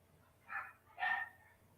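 A dog gives two short, soft barks or yips in a quiet room, a pause between them, fairly close but low in level.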